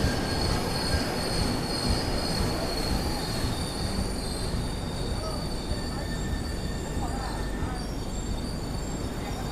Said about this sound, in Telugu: సడన్గా ట్రైన్ ఎంటర్ అయిపోయింది.